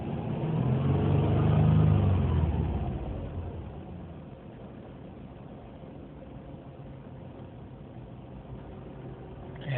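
A car engine revs under light throttle toward 3000 rpm, swelling to a loud sustained roar, then easing back to a steady idle hum; suspected bad fuel pump.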